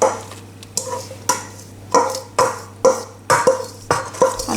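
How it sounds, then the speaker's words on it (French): Grated garlic potatoes are stirred and folded into a gratin mixture in a bowl, about nine close wet scraping strokes in a steady rhythm, with no talk. "je vais mettre mes pommes de terre râpées à l'ail dans ce mélange"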